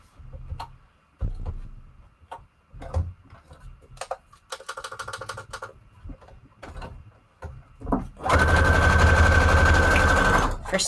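A sewing machine running a straight stitch through paper pieces, first short stop-start bursts and clicks, then a loud continuous whirring run near the end, close up.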